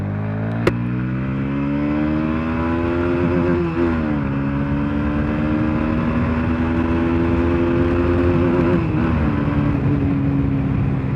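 A Bajaj Pulsar NS160 BS6 with a modified stock exhaust runs loud and close, holding a steady throaty drone that sags and climbs back in two revs, with a sharp click near the start.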